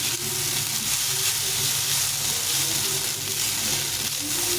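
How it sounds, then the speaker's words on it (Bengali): Cooked rice frying in a pan with onion, garlic, green chili and black cumin, giving a loud, continuous, close sizzle with faint scraping of stirring underneath and no talking. "এভাবে ভাজতে হবে অনেকক্ষণ ধরে ভাজতে হবে যাতে ভাতটা ঝরঝরা হয়ে যায়"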